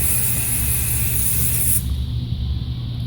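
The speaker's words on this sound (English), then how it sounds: "I'm gonna spray it a little bit more." Hairspray from an aerosol can hisses in one continuous close, loud burst onto curled hair, cutting off sharply after about two seconds and leaving quieter room noise.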